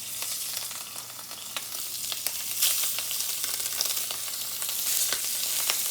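Jumbo shrimp searing in a hot pan, spaced well apart, give a steady loud sizzle with scattered crackling pops throughout, and no voices.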